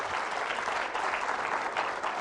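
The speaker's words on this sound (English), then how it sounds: "Loud applause for the Lord and Savior, Jesus Christ" A church audience applauds loudly and steadily during a talk by a priest, the dense clapping filling the whole moment without a break.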